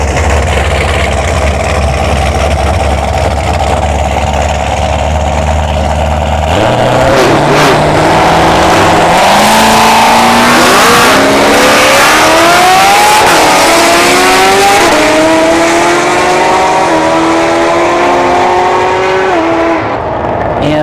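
A Camaro SS and a C3 Corvette idle with a deep rumble at a dragstrip, then launch with a loud roar, revving up through several gear shifts as they pull away, with no talk.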